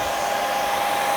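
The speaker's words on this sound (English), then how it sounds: "And what you hear in here is the hair dryer" A hair dryer runs indoors drying sopping wet motorcycle riding gear and rain liners, giving a steady, loud, unbroken whir with no voices.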